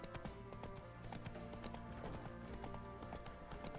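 Roach the horse gallops in The Witcher 3, a quick rhythmic clip-clop of hooves running steadily throughout, faint under a low ambient game background.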